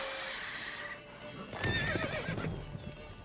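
Roach, a horse in The Witcher 3, gives a clear neigh and then clip-clops its hooves at close range, with a faint voice underneath.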